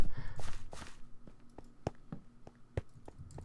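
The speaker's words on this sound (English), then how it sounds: "Oh, I hear a lot of footsteps." Footsteps in a video game: soft, evenly spaced steps tapping along at a walking pace, fairly faint, with a bit of rustle at the start.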